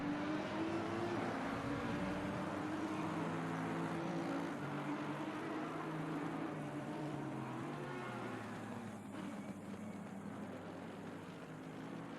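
GT3 race cars in a championship race roar through a braking zone, several engines droning loud and continuous with falling pitch as they slow into a corner, a steady mechanical wash throughout.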